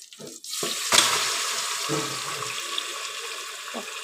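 Marinated mutton hits hot oil and breaks into a loud, sustained sizzle after a few handling knocks, then settles into steady frying with occasional stirring clunks.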